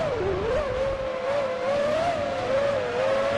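A Ferrari Formula One car in a Formula One 2003 video game at the San Marino Grand Prix, driven as Schumacher's, gives a loud, sustained high engine whine whose pitch wavers slightly but holds steady throughout.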